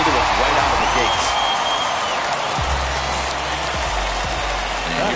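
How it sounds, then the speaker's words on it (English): Home crowd cheering and applauding at a Brewers versus Cardinals baseball game, a dense steady roar filling the whole stretch, with a commentator talking over it. "No better way to get the home crowd into it right out of the gates."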